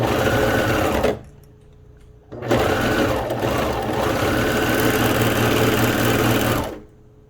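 Sewing machine stitching a seam on a buttoned-up garment, loud rapid mechanical whirring in two bursts separated by a brief quiet pause, with a faint hum between runs.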